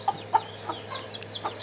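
A full-grown backyard chicken clucks in a few short, soft calls, two sharper ones near the start and a few fainter ones after, heard close over a low steady hum.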